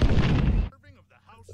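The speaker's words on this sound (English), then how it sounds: "An explosion!" A loud, dense blast from an explosion in the Naruto Shippuden anime roars for over half a second, then cuts off abruptly into quieter sounds.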